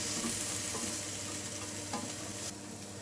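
Tomatoes and spices fry in a pan with a constant close sizzle, overlaid by a few soft stirring scrapes, then the sound eases slightly near the end.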